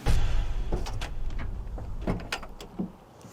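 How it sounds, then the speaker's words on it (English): The car door of a 1973 Dodge Challenger swings open close by, with latch clicks and mechanical clunks from the door and hinges over a few seconds. "All right, doors open splendidly."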